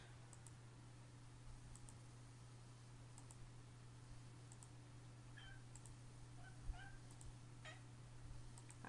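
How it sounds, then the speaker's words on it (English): A cat gives a few short, faint meows in the middle of a quiet room with a low hum and occasional soft clicks. "You hear my cat. She's talking to us."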